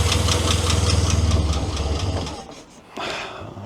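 A Morris Minor car engine with a fuel leak runs nearby, its rapid pulsing idle loud and steady before dropping off, then a brief clatter and lighter running, with a voice speaking briefly over it.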